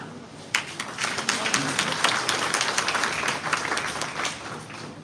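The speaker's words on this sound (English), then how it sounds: "So I think you all want to clap" An audience at a Mont Rose College event in London claps steadily for several seconds, a close, dense round of applause that starts suddenly and carries on without pause.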